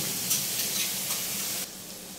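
Masala spice paste made with nut paste fries in oil for a Bengali doi mach, giving a steady, close sizzle that drops noticeably softer near the end.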